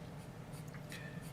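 Pencil shading on paper while drawing a realistic portrait, soft continuous scratchy strokes with light pressure, close and quiet.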